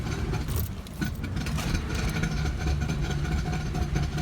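A Ford Ranger rattles in four-wheel drive on a hill from a bad CV joint, a dense, steady engine and drivetrain rumble with metallic clatter throughout.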